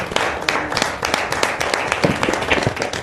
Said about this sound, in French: Vous avez raison, ça mérite un applaudissement.